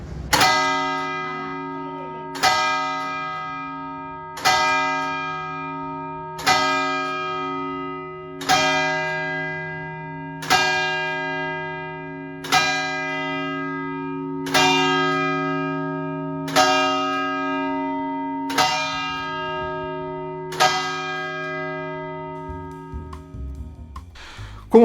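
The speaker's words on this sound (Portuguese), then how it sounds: "os sinos do Belém dobram há 143 anos" The bells of Belém church toll slowly and loudly, about a dozen evenly spaced strikes roughly two seconds apart, each leaving a long resonant hum that overlaps the next, with no voices.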